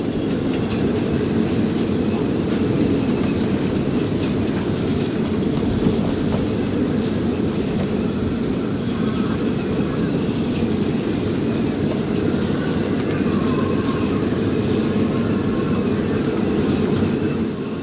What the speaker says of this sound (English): as you can possibly hear from the wind that's whistling through the rigging